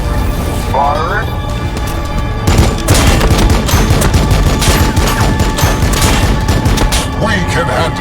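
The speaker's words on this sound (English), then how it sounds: "Firing." Gunfire from the Warhammer 40k: Battlesector strategy game, a dense rattling fusillade of shots and booms that keeps up loudly and steadily for several seconds under a continuous battle din, with voices speaking over it.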